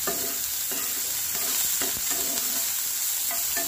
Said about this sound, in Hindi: ऑयल हमारा गर्म हो चुका है, इसमें हम भीगा हुआ न्यूट्रीला डाल देंगे और इसे हम समथिंग 5 मिनट सौटे करेंगे